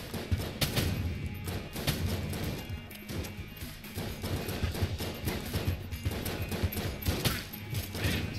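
Grenades go off in Enter the Gungeon as a flurry of repeated sharp blasts and crashing impacts, dense and busy over game music, with no speech.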